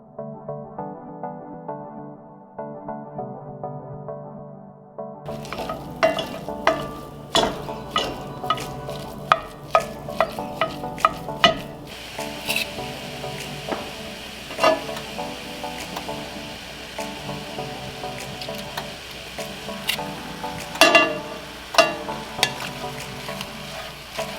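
Onions sautéing in a pan on a home stovetop, a soft sizzle under repeated scraping and stirring clicks, fairly close and steady after a quieter start.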